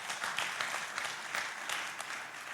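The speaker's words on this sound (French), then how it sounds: "On peut-tu leur donner une main d'applaudissement?" A church congregation claps for the team working at the back, a steady wash of many hands at moderate level with no talk over it.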